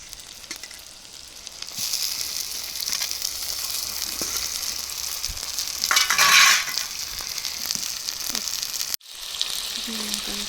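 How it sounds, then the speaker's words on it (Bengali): Chicken pieces dropped into hot oil with onions in a rural Indian kitchen pan sizzle and fry steadily, with stirring scrapes and a louder burst of sizzling midway, then a brief pause before frying resumes. "চিকেনটা দিয়ে দিচ্ছি।"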